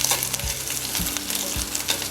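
Sliced tomato sautéing in a pan for Kerala-style fish curry, a bright continuous sizzle broken by a few scraping stirs of a spoon, close and clear with no talking.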